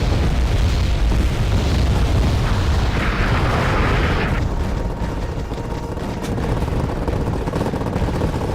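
Mortar explosions in Wargame: Airland Battle, falling on troops holding a town: continuous loud rumbling booms layered together with a dense roar, no clear gaps between impacts.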